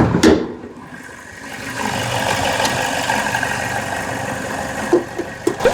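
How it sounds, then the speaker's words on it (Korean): Chevrolet Orlando LPG car engine idling with the hood open, a steady close mechanical hum and low rumble running evenly, with a few sharp knocks at the start and end. "엔진 소리도 굉장히 좋고요"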